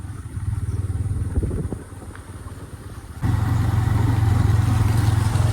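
A motorcycle on a muddy village road after overnight rain gives a close, steady engine drone that drops briefly, then returns louder and fuller for the last couple of seconds, with no talking.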